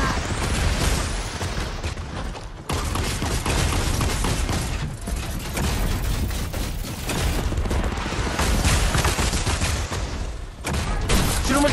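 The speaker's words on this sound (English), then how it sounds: "Shoot him with the shotgun!" Dense, loud shotgun blasts and gunfire in a video game pound almost without pause, heavy booming reports layered over each other with brief gaps, close and overwhelming.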